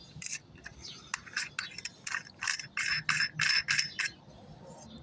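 Metal threads of a telescope nose piece adapter, an M48 to M42 ring, being screwed together on a Skywatcher Virtuoso 150 GTI Dobsonian setup, giving a run of close, crisp metallic scrapes and clicks in quick bursts, alone without talk.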